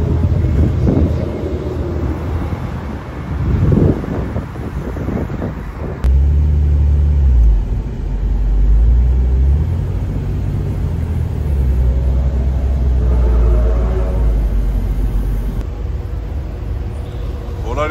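A parade of Porsche cars rolls down a city boulevard in Nîmes, with engines rumbling and passing close, mixed with wind buffeting and a voice talking over them.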